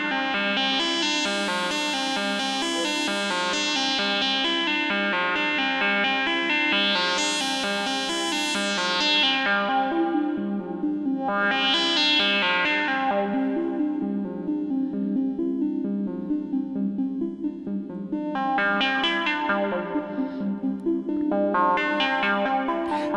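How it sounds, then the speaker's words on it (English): Synthesizer with a resonant filter and plenty of bass, run through a Delverb pedal delay, plays sustained chords whose filter sweeps open and closed in repeated swells, with echoing tails and no talking. "I am running a little bit of delay from the Delverb pedal, just because synths always sound better with a little delay"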